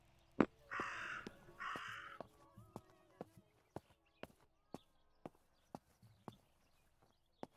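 In the video game Martha Is Dead, a crow gives two harsh caws near the start, followed by slow, evenly spaced footsteps that thud alone in a quiet scene.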